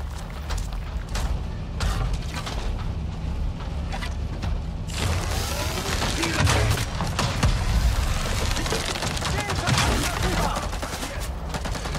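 Gunfire at a robot in the video game Avatar: Frontiers of Pandora. Dense bursts of shots and booms run through the whole stretch and grow heavier about halfway, over a constant loud game din.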